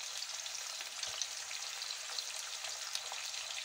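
Chicken drumsticks browning in a frying pan for a paprika chicken stew give a steady, fairly quiet sizzle with fine crackles and a few sharper pops, heard alone without voices.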